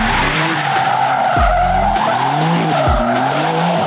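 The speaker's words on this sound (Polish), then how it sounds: "To był najlepszy twój bączek." A car spinning a donut, its tires skidding and squealing with sweeping, wavering pitch over a steady, loud engine roar, recorded close for a few seconds with no talking.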